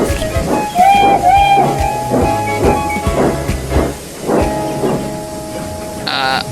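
A passenger train in an animated Thomas-style engine story sets off with rhythmic chuffing and hissing steam, a steady rolling beat under whistle-like tones, loud and close, ending in a bright high burst.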